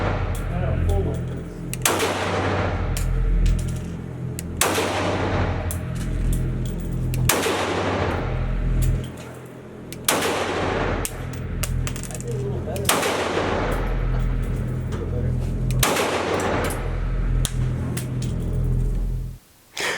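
Gunshots from a Ruger 5.7 pistol at a range, loud sharp reports fired in a slow, steady series of about seven evenly spaced shots with ringing decay between them.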